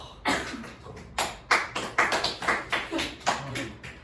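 Students in a high school English class clap in a loose, uneven burst: a handful of sharp, separate claps and short clusters at fairly close range, with irregular spacing rather than sustained applause.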